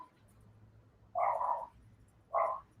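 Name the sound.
dog barking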